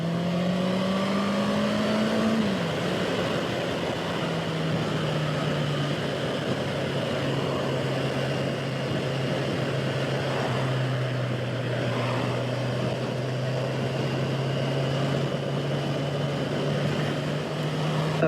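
Honda CB650R motorcycle ridden on a twisty road, its engine revving loudly with pitch sliding down as it shifts and steady wind rush throughout, close and continuous with no talk.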